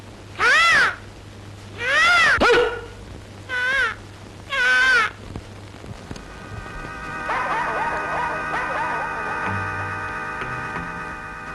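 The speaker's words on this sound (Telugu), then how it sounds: "గుంటనక్క కాదు గురు, బొంత కాకి" Four loud, harsh crow caws come close together near the start, followed by quieter mixed background sounds, in a Telugu film scene.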